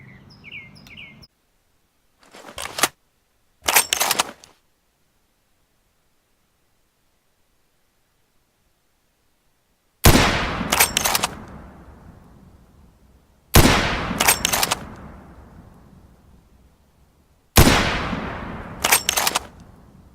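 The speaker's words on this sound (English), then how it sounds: "our President JFK was shot at 12:30 p.m. at the Dalal Plaza at the presidential motorcade" Gunshots from news footage of the JFK assassination at Dealey Plaza during the presidential motorcade: two short sharp cracks, then a pause, then three louder, echoing bangs with long decaying tails, with no voices.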